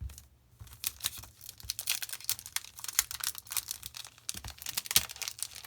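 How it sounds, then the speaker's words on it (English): A Yu-Gi-Oh Hidden Arsenal 6 booster pack is torn open, with dense crinkling and crackling of the foil wrapper and quick sharp tearing sounds, close up and with no voices. "we're going to open all 3 packs and then show off the cards"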